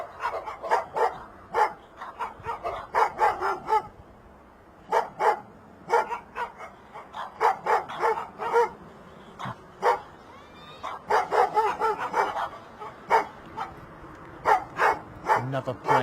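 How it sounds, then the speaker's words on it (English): Dogs bark repeatedly nearby outdoors near Bristol Airport, sharp loud barks in irregular bursts with short pauses, continuing throughout. "Sorry about the barking"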